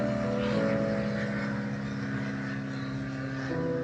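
A Cessna training airplane passes overhead, a steady propeller-engine drone heard throughout at moderate loudness, with a slight shift in pitch near the end.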